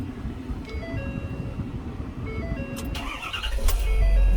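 A 2013 Ford F450 lube truck with about 185,000 miles idles steadily nearby, a low continuous engine rumble that swells louder toward the end, with no talking.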